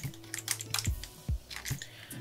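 Keys clatter on a computer keyboard as a layer name is typed in photo-editing software, a quick irregular run of close, soft taps with no talking.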